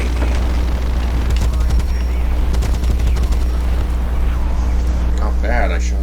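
Sd.Kfz.251/21 self-propelled anti-aircraft gun in War Thunder fires long, rapid bursts of autocannon fire over a constant heavy engine rumble, loud and close, with brief pauses between volleys.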